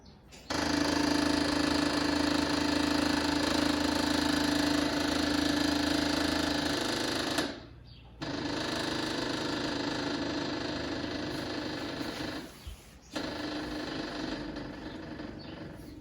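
The electric fuel pump on a 1972 Volkswagen Westfalia hums steadily as it pressurizes the carburetors, running loud and continuous with two brief pauses and no talking.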